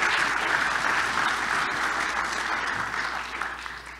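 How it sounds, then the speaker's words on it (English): Steady applause from an audience at a Kubernetes Gateway API conference talk, dense and continuous for about three seconds before tapering slightly toward the end. "Round of applause"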